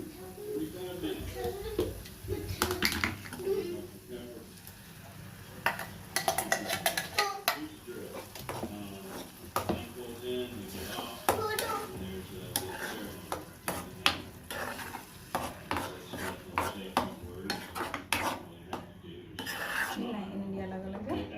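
Chopped tomatoes tipped into a hot pan of spiced oil with cumin and coriander powder for matar aloo, sizzling and stirred with spoon clatter against the pan while a person talks throughout.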